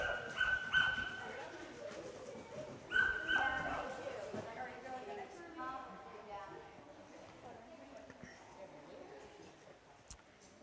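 Dogs at an outdoor dog skills day whimper, yip and give a few barks, fairly close and moderately loud, amid people talking nearby.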